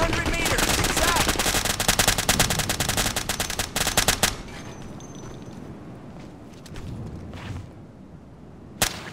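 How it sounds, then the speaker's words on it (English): Rapid automatic gunfire in the military shooter game Operation Flashpoint: Dragon Rising, dense and loud for about four seconds, then a distant rumbling battlefield ambience with a single sharp shot near the end. "Suppressive fire!"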